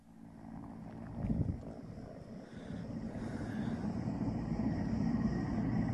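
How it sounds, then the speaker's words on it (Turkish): A firefighting helicopter works over a burning forest near Datça, Turkey, heard as a steady low rotor and engine rumble with wind noise that swells and stays loud throughout. "helikopter ilk suyu atacak şimdi"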